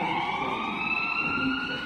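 An ambulance siren wails, rising and holding steady, loud and continuous, with traffic rumble underneath.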